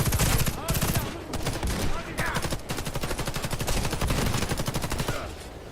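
Rapid automatic gunfire from the Warface shooter game in a PvE mission, dense repeated bursts running loud and steady throughout with almost no pause.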